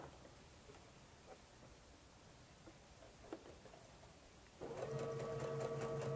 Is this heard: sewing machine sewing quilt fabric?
yes